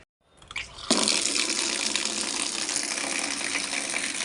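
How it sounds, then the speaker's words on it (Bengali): Tap water gushes steadily into a basin for soaking clothes with detergent, starting after a brief silence and a few small knocks, then running loud and close without pause. "তো চলো এখন গামলার মধ্যে জল দিয়ে সার্ফ দিয়ে ভিজিয়ে দিই"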